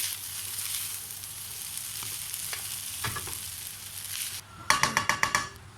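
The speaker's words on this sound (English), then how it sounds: "Now, I'm going to add some tomato. A little bit of a more stir." Tomato being stirred into chicken fried rice that sizzles steadily in a hot pan, with a few scrapes and then a quick series of metallic clatters from a utensil hitting the pan toward the end.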